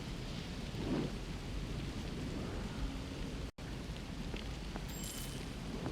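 Rain and rolling thunder from the PS2 game Baldur's Gate: Dark Alliance II form a steady dense hiss with low rumbles, continuous apart from a momentary dropout midway.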